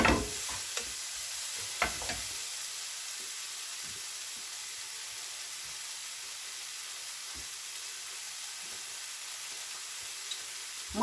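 Apple-cinnamon filling sizzles steadily in a pan over a gas flame, a continuous bright hiss with a few soft scraping stirs near the start and scattered light taps throughout.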